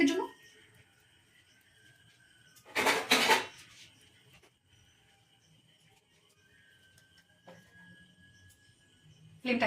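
A pan lid is set down over vegetable oats cheela batter cooking on a stovetop, giving a short cluster of loud metallic clatter in the middle of an otherwise quiet kitchen, with faint clinks and a voice near the start and end.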